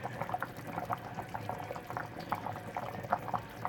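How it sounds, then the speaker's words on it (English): Beef and Guinness stew boiling hard in a pot on a small stove, a steady run of thick bubbling pops and gurgles, close and fairly quiet, with no voices. "It's boiling."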